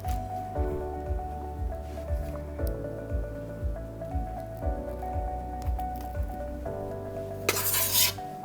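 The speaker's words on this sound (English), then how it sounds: "Give our buttercream a quick little stir before we get going" Buttercream for a decorated Easter cake is stirred in a bowl with slow, rhythmic wet squishing strokes, soft and close, repeating about every half second over quiet background music.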